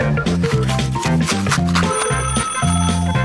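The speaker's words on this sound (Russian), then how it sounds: "О, кто-то мне звонит." A phone rings with a fast, repeated electronic bell-like trill in short bursts, loud and steady with no voices.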